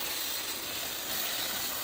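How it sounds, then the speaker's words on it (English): A steam cleaning machine blasts a continuous, close, loud hiss of pressurized steam, steady with a slight surge partway through. "So blasting with steam breaks down that dirt and gets it looking sharp."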